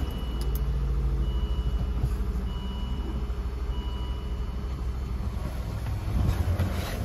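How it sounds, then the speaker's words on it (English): A Volvo C70 convertible engine idling after a cold start, a steady low rumbling drone with faint tonal hum and a slight swell near the end. "the cold start video of the Volvo C70 convertible"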